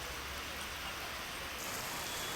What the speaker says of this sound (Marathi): बदलापुरात मुसळधार असा पाऊस होतोय